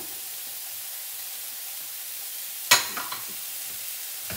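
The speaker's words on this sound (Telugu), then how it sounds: "ఇవన్నీ మనం మంచిగా కొంచెం ఫ్రై చేస్తున్నాము." Bell pepper and other vegetables frying in a pan for a light barley dish give a steady, soft broadband sizzle throughout, with one sharp utensil scrape or clatter near the end followed by a few fainter stirring knocks.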